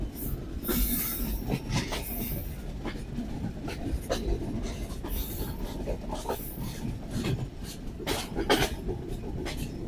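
The Chitra Express passenger train runs at speed near Mobarakganj, with a constant rumbling roar, rattling wheel clicks and repeated high squeals of wheels on the rails.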